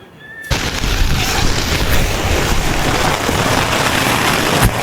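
Heavy rain pouring down suddenly at Damortis Beach in La Union, a loud, dense, steady roar of drops hitting surfaces, close and constant.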